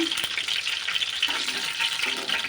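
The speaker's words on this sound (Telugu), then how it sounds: "ఇలా కొంచెం ఆయిల్ వేసి బాగా వేయించుకొని" Steady oil sizzling and crackling as half-boiled brinjals fry in a pan, a continuous hiss at moderate volume with occasional stirring scrapes.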